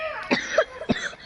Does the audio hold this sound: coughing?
yes